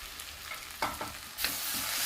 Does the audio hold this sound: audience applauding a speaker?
no